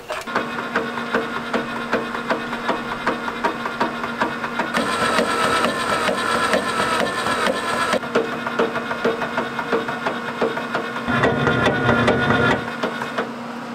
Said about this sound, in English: this thing's making a lot of noise with the rattling of this motor back and forth as it turns